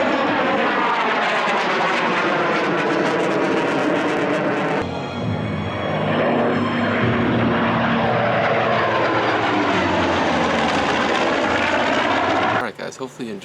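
Propeller aerobatic airplane performing a pushover and vertical pirouette at the Bremerton airshow, a loud sustained engine roar that shifts pitch midway as the plane maneuvers, with a commentator talking over it.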